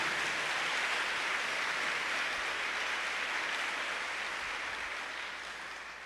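Sustained applause from a church congregation during a sermon, a dense wash of many hands clapping at moderate distance, steady and then gradually fading toward the end.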